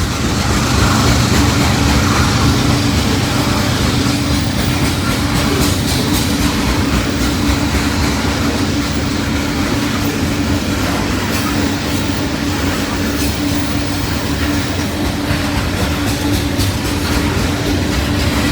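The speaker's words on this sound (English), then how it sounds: "We got us a loaded coal train here." A loaded coal train of about 90 cars behind two locomotives rolls past, a loud, unbroken rumble with steady clickety-clack of wheels that holds for the whole stretch.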